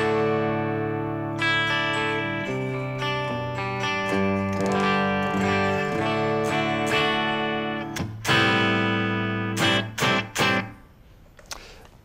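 Electric guitar played through a Marshall YJM100 100-watt tube amp head, crunchy and distorted, sustained chords and melodic runs ringing with heavy harmonics, loud and alone, ending in a few sharp staccato stabs.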